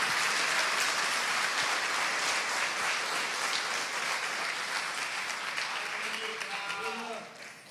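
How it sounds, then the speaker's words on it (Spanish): A church congregation claps in praise during a Sunday morning service, dense sustained applause filling the room nearly to the end, with a voice briefly rising over it as the clapping fades. "Vamos, denle un aplauso al Señor de alabanza, de gloria en esta mañana"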